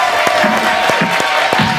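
Live studio audience at a music show cheers and claps for a singer-songwriter, a steady crowd roar with repeated whoops and shouts rising over it.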